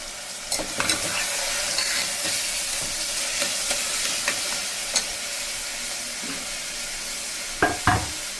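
Chopped onions sautéing in a pan during a South Indian morning cooking routine, a steady soft sizzle with occasional spoon scrapes and clinks against the pan.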